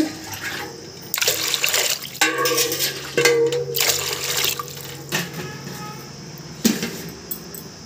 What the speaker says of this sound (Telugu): ఒక 4 గ్లాసులు వాటర్ పోసి ఉడికించుకుందాము